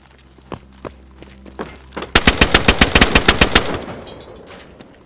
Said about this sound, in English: Jesus, this gun shoots so slow.